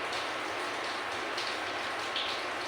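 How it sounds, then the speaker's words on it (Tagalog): Heavy rain pours down steadily, a dense, continuous hiss of drops close by, with no pauses and no voices. "Ang lakas ng ulan dito sa amin mga boss."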